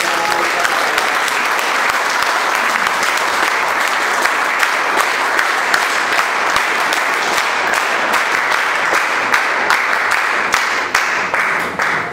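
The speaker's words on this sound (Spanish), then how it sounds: "fuerte aplauso a nuestros hermanos dirigentes" Strong, sustained applause from a political rally crowd in Callao, Peru, honoring the leaders. Dense clapping rolls on at steady loudness throughout.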